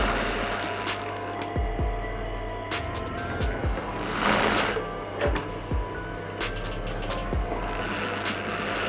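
Sewing machine stitching a blouse, a steady mechanical clatter with repeating rhythmic knocks and ticks, close and continuous with no voices.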